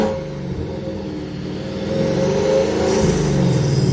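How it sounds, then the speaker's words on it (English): Supercharged 700+ horsepower Ford Mustang GT accelerating hard, its loud engine rumble building steadily with a rush of air from the blow-off valve near the end, close and continuous with no talking. "You hear the blow-off valve?"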